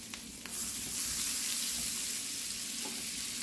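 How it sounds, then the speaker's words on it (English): Butter, a little over a tablespoon, melts and sizzles in the pan left from cooking pork chops, a steady, bright hiss holding at moderate loudness from start to finish, with no one talking. "add the 1 to 2 tablespoons of butter. So I'm probably going to do a little over 1. And you let it melt"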